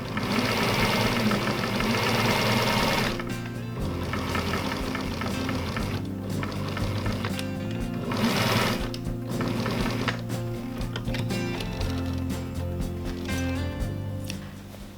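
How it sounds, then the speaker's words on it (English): A home sewing machine stitches the side seams of a fantasy winter garment, running in a steady mechanical whir with several short pauses and restarts, close and loud with no talking. "it is time to sew up my side seams"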